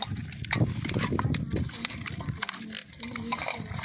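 A mango and mutton curry mixed with oil, salt and chili, giving a steady wet stirring and squelching with occasional utensil clinks, close up under a voice talking throughout.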